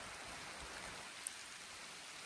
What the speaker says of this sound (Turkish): Şu an yağmur başladı.